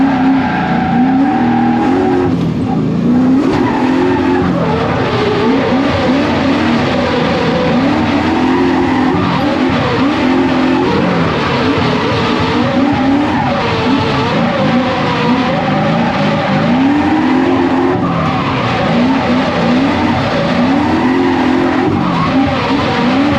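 BMW E36 race car driven hard through a turn on a track, engine droning and wavering steadily with tires skidding under load, loud and continuous from inside the car.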